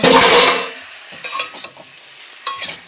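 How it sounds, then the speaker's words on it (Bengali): Onion greens and potatoes frying in a pan, a loud sizzle at first that quickly dies down, followed by several short bursts of stirring and scraping with a utensil. "এখানে পেঁয়াজ কলি আলু ভাজা করছি"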